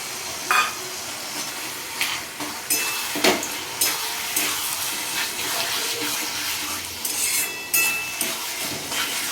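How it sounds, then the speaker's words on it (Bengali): Hilsa fish head being stirred into taro leaves in a pan, giving a wet, watery scraping and sloshing with steady sizzle-like hiss and a few sharper utensil knocks, close and continuous throughout. "এরপরে আমি কচু শাকের মধ্যে ইলিশ মাছের মাথাটা দিয়ে আস্তে আস্তে নাড়বো, যেন এর মধ্যে মিশে যায়।"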